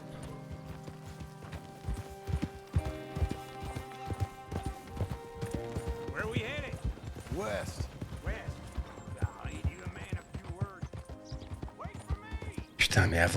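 Horse hooves clip-clop at a steady trot in the video game Red Dead Redemption II, under a music score and a horse's whinny, while someone talks over the gameplay.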